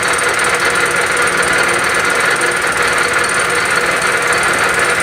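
A fly cutter takes a light pass across a glued-up wooden board, a loud constant high whirring hum with fine rapid chatter that holds steady throughout.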